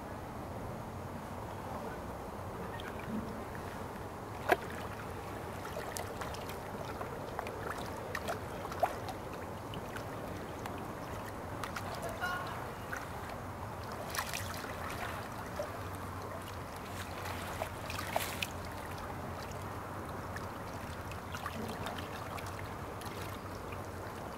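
A kayak paddle doing a draw stroke to the hip, soft swishes and gentle water trickles with occasional faint knocks, quiet and continuous outdoors.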